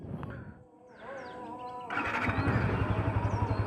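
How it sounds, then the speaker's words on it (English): A Yamaha FZ motorcycle engine starts up and settles into a steady idle, a low rumble rising abruptly midway and holding close and loud, with faint birdsong in the background. "bike started."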